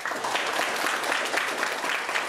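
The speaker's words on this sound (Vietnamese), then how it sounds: "Vỗ tay" Clapping from an audience at a Buddhist Dharma talk, steady and moderately loud, a short burst of many hands without voices.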